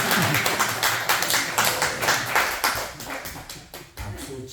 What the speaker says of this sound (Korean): 박수 쳐도 괜찮습니다.